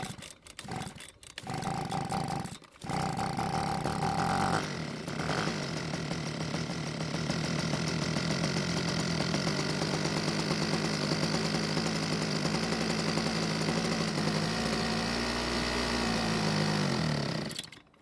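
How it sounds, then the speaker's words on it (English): A Husqvarna leaf blower with a carburettor primed by hand starts after a couple of sputtering pulls. It then runs steadily and loudly at a rough, buzzing idle for about fifteen seconds before cutting out. "we'll prime the carb with our own fuel and then try and start it"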